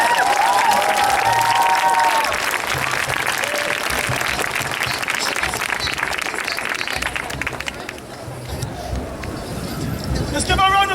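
Outdoor crowd at a demonstration for Child Q bursts into applause, loud dense clapping mixed with cheers and a few whistles, easing after several seconds while voices murmur beneath.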